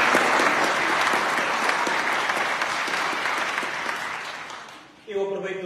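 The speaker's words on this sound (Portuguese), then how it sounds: "E uma salva de palmas" Warm applause from a seated congregation at a Catholic Christ the King mass in Espinhel, loud and sustained for about five seconds, fading, then briefly cut off as a voice begins.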